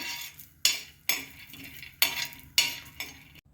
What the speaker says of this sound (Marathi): शेंगादाणे आपल्याला छान खमंग भाजून घ्यायचे आहे